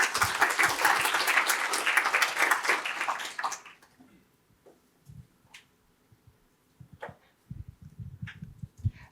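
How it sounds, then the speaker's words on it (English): Symposium audience applauding after a research talk: a full, dense burst of many hands clapping that lasts a few seconds and then cuts off abruptly, leaving a quiet room with scattered faint knocks and shuffling. "Round of applause."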